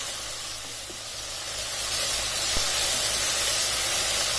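Finely chopped carrots cooking in a pan for chicken spring roll filling, a steady, fairly loud broadband sizzle and hiss that swells slightly partway through and continues without talk.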